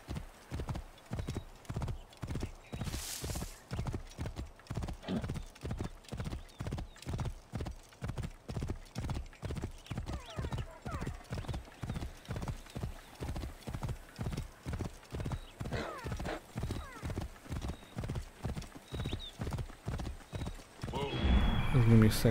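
A horse gallops in the video game Assassin's Creed Origins, steady rhythmic hoofbeats pounding for a long stretch with an occasional whinny, loud and close, with someone speaking briefly over it.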